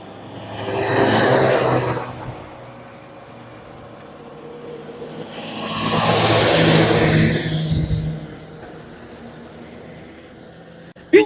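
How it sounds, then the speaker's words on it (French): Fire trucks passing through a village near wildfire-burned land at Ille-sur-Têt, two engine swells rising and fading as vehicles drive by at moderate distance, the second louder and longer. "Vous voyez les pompiers qui passent encore."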